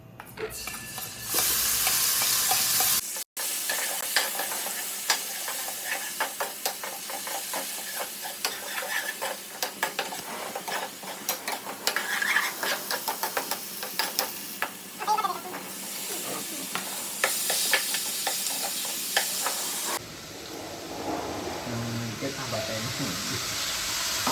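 A ground masala paste hits a hot pan and fries with a loud, continuous hiss and crackle, dense spattering and occasional stirring scrapes, the sizzle easing slightly near the end.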